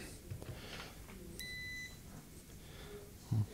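A steady electronic beep from a multimeter testing for a short on an iPhone 11 board sounds once for about half a second, clean and close, amid quiet background noise and a faint thump near the end.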